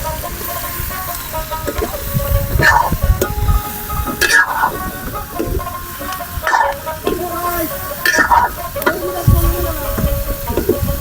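Vegetables fried with onion and chilli in a large pot at a riverside fishermen's cooking spot, loud continuous sizzling with repeated scraping stirs and metal clanks, a voice faintly in the background.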